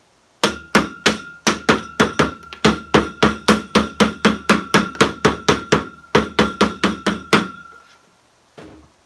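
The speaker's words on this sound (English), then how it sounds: "This is a fermenting lid to our 2-gallon fermenting bucket. And we're going to hammer it down." A fermenting lid being hammered down onto a 2-gallon fermenting bucket: a long, steady run of about thirty loud, close hammer blows in even rhythm, a brief pause, then a final strike after a gap.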